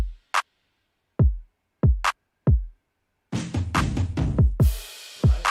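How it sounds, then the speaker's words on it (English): Programmed beat with a clap added: sparse booming kick hits and sharp claps spaced out, then a busier full pattern with layered drums and a clap on the backbeat, loud and close with no talking. "Then I had the clap in."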